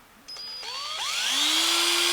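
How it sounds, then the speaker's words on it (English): Power drill boring a hole in the corner of a PVC fitting: the motor whirs up briefly, then winds up again into a steady, close, loud whine that holds to the end. "Drill a hole in the corner."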